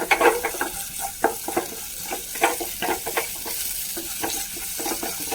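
Ginger and garlic frying in hot oil, a continuous bright sizzle punctuated by frequent irregular stirring scrapes and taps of a spoon against the pan, close and fairly loud with no voices.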